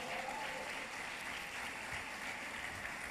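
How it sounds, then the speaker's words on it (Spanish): A church congregation at a Spanish-language service gives a steady, even round of applause, moderately distant and without voices on top. "Vamos a darle un aplauso al Señor."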